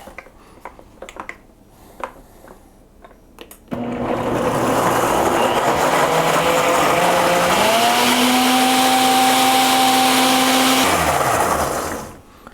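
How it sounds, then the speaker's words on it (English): A countertop blender whirs loud and steady for about eight seconds, blending vegan chocolate peanut butter pudding with maple syrup, its pitch rising partway through and then winding down, after a few soft clicks and taps. "I'm just going to put the lid on and I am going to blend this up."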